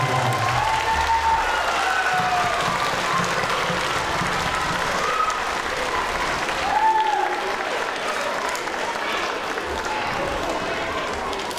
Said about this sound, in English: Let's give everybody a nice round of applause.